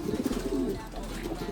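Pigeons coo in a steady, low, throaty series close by, with a constant soft background hum under the calls.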